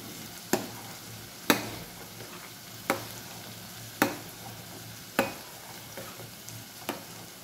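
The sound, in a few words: stirring masala with garam masala and kasuri methi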